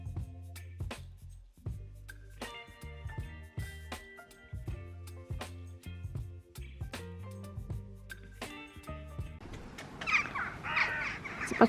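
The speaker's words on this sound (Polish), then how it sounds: "rzuciłam chleb dla naszych wron." Several crows in a snowy yard after bread has been tossed out for them, cawing loudly and repeatedly at close range, with a burst of flapping or rustling near the end.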